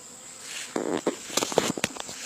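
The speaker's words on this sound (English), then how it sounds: "You hear the buzz, and that's the beehive." Bees in a Kenyan top bar beehive give a thin, steady buzz, broken by short rustling and scraping bursts close by.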